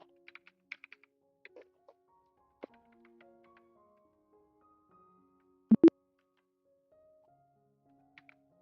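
Computer keyboard keys are pressed in scattered, sparse taps, quiet and close, with a pair of louder thumps partway through and long gaps of near silence between presses.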